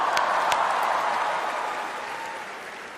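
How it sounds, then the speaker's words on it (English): A comedy show audience applauds loudly in a sustained burst of dense clapping that slowly fades over a few seconds, with a few sharper claps standing out near the start. "Can we have a huge round of applause for my opening act, junior comedian Karan Johar?"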